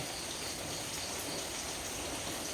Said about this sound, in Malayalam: ഇവിടെ രാവിലെ തൊട്ട് മഴയാണ്